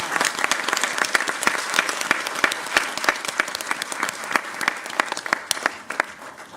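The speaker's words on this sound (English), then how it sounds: "let's give the Queen's University Choir an applause." Applause for the Queen's University Choir at a mayor and council swearing-in ceremony, a hall full of people clapping steadily, with crisp individual claps standing out over the general rattle and the sound thinning slightly toward the end.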